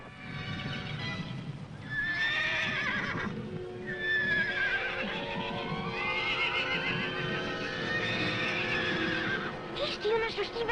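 A horse whinnies loudly several times over a background of hooves clip-clopping and movement, with voices faintly underneath.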